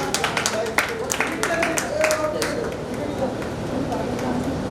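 A group at a Rakhi family get-together claps for Sunil Mama with a quick burst of scattered hand claps that fades out, while people chatter around it.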